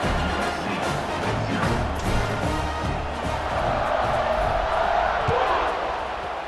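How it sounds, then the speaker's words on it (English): A packed stadium crowd in EA Sports College Football 26 roars after a score, a dense, loud, continuous buzz of voices that swells slightly and stays steady throughout. "this crowd is buzzing after that last score"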